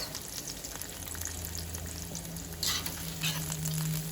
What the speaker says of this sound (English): Let's throw the onion and the garlic in there first.